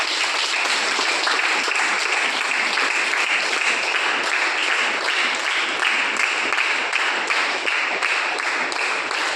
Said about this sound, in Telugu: సాధారణంగా చప్పట్లతో ఆహ్వానించారు.